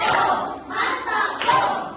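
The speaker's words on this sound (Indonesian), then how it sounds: "Bagus, tepuk mantap untuk Kathy dulu." Three bursts of group hand clapping in a quick rhythmic pattern, close and fairly loud.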